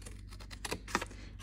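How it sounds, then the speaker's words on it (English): Scissors snip the corners of a paper cupcake box, a few quick crisp cuts close by, the two sharpest near the end, with a low steady background hum and no talk. "we're gonna snip both corners"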